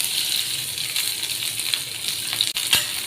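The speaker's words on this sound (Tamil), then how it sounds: "நல்லெண்ணெயிலே இந்த வெங்காயம் பொரிஞ்சால் நல்லா டேஸ்ட் வரும்." Onions sizzling in sesame oil in a pan, a steady, moderately loud crackling hiss with a few small pops and one light clatter near the end, no talking.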